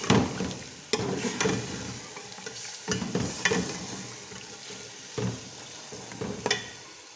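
Mutton sizzles steadily as it is fried for Hyderabadi haleem in a pan, with a spoon stirring and scraping through it in repeated strokes and sharp knocks against the pan, close and moderately loud with no voices.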